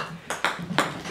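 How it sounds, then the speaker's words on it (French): A cat bats a plastic Kinder Surprise egg around indoors, producing three light, hollow clicks and knocks spaced irregularly over low room noise. "ça c'est mon chat qui joue avec un œuf de Kinder Surprise"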